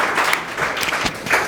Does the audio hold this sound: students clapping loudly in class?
yes